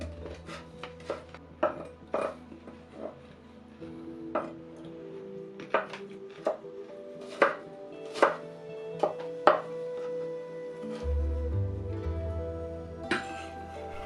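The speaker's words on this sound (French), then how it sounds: "Pour la carotte, nous allons réserver la moitié pour le pickles et l'autre en brunoise." A knife chops carrot into fine brunoise on a board, sharp irregular taps in quick bursts, close and clear with no talk.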